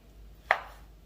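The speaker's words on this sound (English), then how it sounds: "I'm going to be chopping up a couple meatballs." A single knife chop through a meatball for chicken curry noodles, one sharp close stroke on a board standing alone against quiet room tone.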